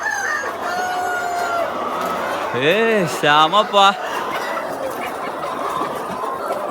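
Free-range country roosters lined up in a yard, one crowing a loud nearby cock-a-doodle-doo mid-clip amid clucking, over steady outdoor ambience with someone speaking briefly.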